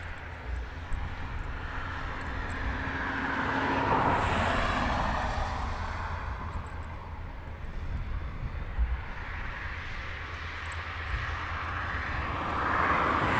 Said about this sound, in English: It's a C17 starting up.